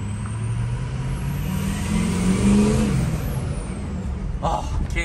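A diesel pickup truck with a 6.0 engine rumbles as it drives past, swelling briefly louder midway and then fading, with a faint voice near the end.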